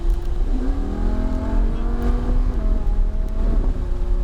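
A Lamborghini accelerates hard on a track at speed, its engine a loud, sustained roar with rising and shifting tones, heard close throughout without talk.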